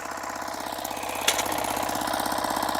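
A ZUBR HT135 walk-behind garden tiller engine runs steadily nearby, with a rapid, even putter and a brief sharper clank partway through.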